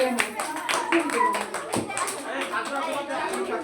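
Students applaud at a school prize-giving, a steady patter of many hands clapping with children's chatter and voices mixed in throughout.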